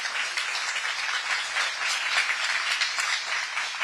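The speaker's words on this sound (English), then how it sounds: "Let's give them all one more round of applause." Audience applause for dancers at an IPBA YAGP ballet showcase, a continuous, even patter of many hands clapping, heard from some distance in the auditorium.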